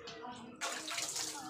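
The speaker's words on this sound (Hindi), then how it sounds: "नल में पानी आ रहा है दोस्तों, हाथ धो ले रहे हैं" Water running from a village tap while hands are washed, a thin splashing stream that suddenly grows louder and brighter partway through, close by and steady.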